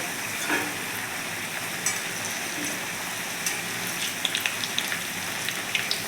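Spinach and pea puris fry in hot oil with a steady, close hiss like rain, and now and then soft pops and crackles break through. No one speaks.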